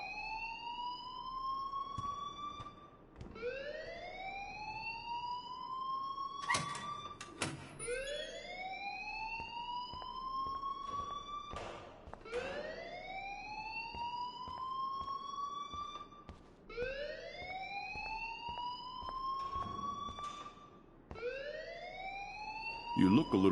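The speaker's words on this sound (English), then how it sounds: "please turn off that alarm since that's your job." A siren-like alarm rings in the video game Life Is Strange, repeating rising wails roughly every four seconds, loud and steady, with sharp clicks and thumps between cycles.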